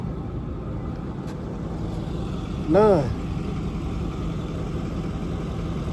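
A diesel truck engine idles with a steady low rumble, and a short voiced sound briefly rises over it midway.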